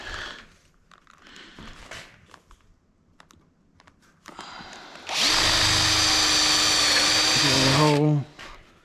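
Faint clicks and light handling noises, then a power drill whirs loudly and steadily for about three seconds while drilling a hole in wood during porch swing assembly, before winding down and stopping.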